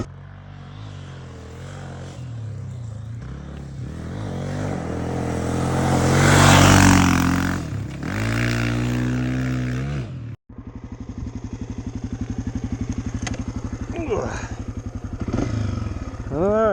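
Engine of a 2023 Honda CRF250F farm motorcycle being ridden in dry conditions, a low grunty revving with shifting pitch that swells loudly mid-clip, cuts out briefly, then returns as a steady close putter.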